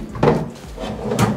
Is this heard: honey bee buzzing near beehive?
no